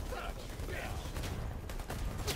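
Video-game gunfire from Predator: Hunting Grounds: dense, continuous automatic firing that fills the whole stretch, with players shouting over it.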